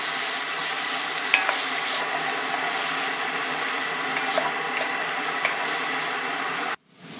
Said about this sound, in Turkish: Ve salçayla beraber şöyle biraz kavuracağım.